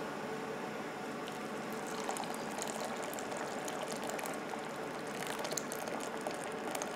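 Thick watermelon syrup heated to 230°F pours through a cheesecloth-lined sieve into a metal bowl, a dense, steady liquid hiss and spatter with small crackles throughout and no talking.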